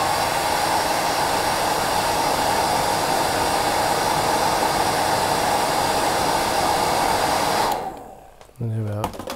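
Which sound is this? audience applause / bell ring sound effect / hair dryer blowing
hair dryer blowing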